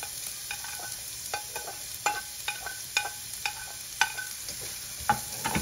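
Onions hitting a pan for Filipino beef giniling, giving a steady low sizzle broken by a series of sharp scraping stirs spaced about every half second to a second, close and moderately loud with no talking.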